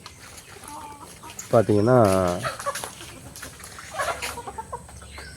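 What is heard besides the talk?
chickens clucking on a farm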